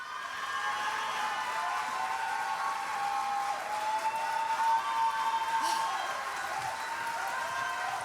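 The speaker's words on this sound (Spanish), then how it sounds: "Vaya ovación." Sustained audience applause and cheering from a crowd at a concert, a steady wash of clapping running the whole length with a faint sustained tone above it.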